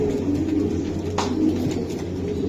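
Racing pigeons coo at a breeding loft, their soft low rolling calls running steadily through the clip close by, with a few brief higher chirps over the top and no talking.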